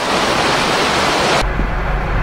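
Joren Falls on the Izu Peninsula gives a loud, steady roar of rushing, crashing water, close and unbroken, its tone shifting abruptly to a deeper rumble partway through.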